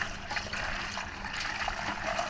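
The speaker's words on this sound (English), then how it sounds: "Then I come over here and I pour it through the filter." Maple sap pours steadily through a filter, making a continuous soft trickling, splashing stream of liquid, close and fairly quiet, with no talking over it.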